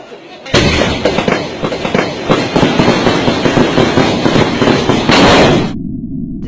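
Fireworks exploding at the Puttingal temple festival in Paravur, Kollam, as a loud, dense, continuous barrage of rapid cracks and booms that stops abruptly near the end.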